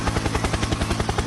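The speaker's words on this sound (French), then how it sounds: "Hélicoptère, attendez, c'est pas une blague." A helicopter flies overhead, its rotor chop pounding in a loud, fast, steady rhythm throughout, with no voices.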